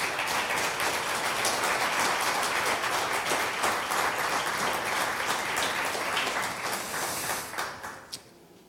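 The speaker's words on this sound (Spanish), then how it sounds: "Dele un aplauso al Señor fuerte," A church congregation applauds loudly and steadily throughout, a dense wash of clapping that thins out and fades over the last second.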